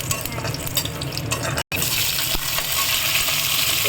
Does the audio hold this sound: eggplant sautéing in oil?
yes